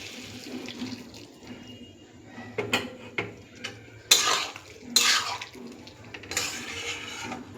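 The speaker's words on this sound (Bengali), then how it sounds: "গরম জল দেবো।" Hot water poured onto soybeans in a cooking pot in a home kitchen, a soft watery wash with several sharper splashes and clinks of utensils against the pot, fairly close and moderately loud, no voices.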